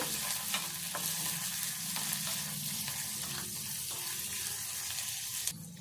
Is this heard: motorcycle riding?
no